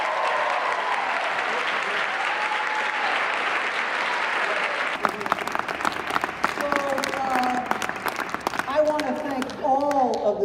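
An audience applauds after a talk at a math teachers' regional Ignite event, a dense wash of clapping that thins into scattered claps with a voice speaking over the end.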